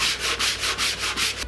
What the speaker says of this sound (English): I'm just going to go over and sand it down a little bit